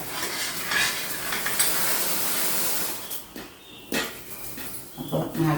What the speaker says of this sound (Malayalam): ശർക്കര കുരുകി വന്നു കേട്ടോ.